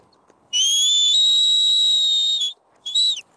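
A farmer's whistled commands to a herding sheepdog working sheep: a long, steady, loud two-second whistle, then a short separate blast, clear and close with nothing else in the background.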